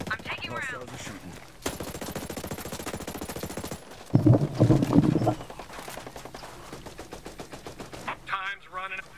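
Hostile gunfire in the tactical shooter Ghost Recon Breakpoint, sustained rapid automatic bursts with a louder close volley midway, mixed with game sounds and a player's voice talking over the action.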